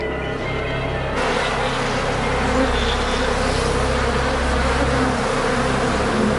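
A dense, continuous buzzing of many killer bees fills the clip, loud and steady with no voices.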